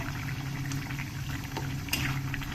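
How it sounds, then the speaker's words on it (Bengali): Fish curry gravy with puti fish, pumpkin greens and potatoes bubbles at a steady rolling boil in a pot, a close, continuous burbling with small pops and no talking. "ঝোলটা ভালো করে ফুটে গেছে"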